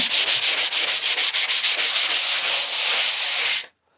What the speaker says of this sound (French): tout ce que j'ai à faire, c'est de la poncer un petit peu légèrement